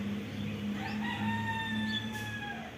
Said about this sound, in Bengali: মোরগ ডাকছে